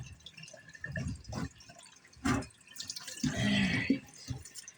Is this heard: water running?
yes